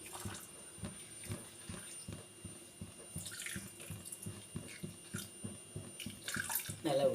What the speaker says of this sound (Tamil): சர்க்கரை நனைகிற அளவுக்கு ஜலம் விடணும்.